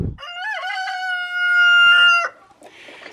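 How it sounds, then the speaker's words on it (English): A rooster crows one long, clear, loud call close by, followed by softer clucking from chickens kept for eggs, with no talk. "so we've got some chickens left"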